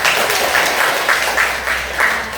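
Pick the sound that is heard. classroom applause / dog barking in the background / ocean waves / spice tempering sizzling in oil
classroom applause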